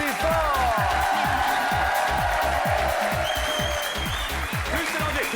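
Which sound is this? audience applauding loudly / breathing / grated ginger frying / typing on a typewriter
audience applauding loudly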